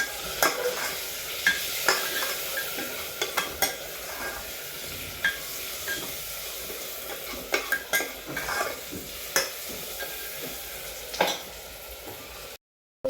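Onion, tomato, chutney, turmeric and a little cumin frying in a pan for soda bhaat, with a soft sizzle under repeated scraping stirs of a spoon against the pan, close and steady.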